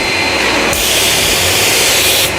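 An automatic weld-cleaning machine in a window and door factory strips the weld seam from a welded window sash, giving a loud, steady whirring and grinding roar with a brief hissing burst near the end, no voices.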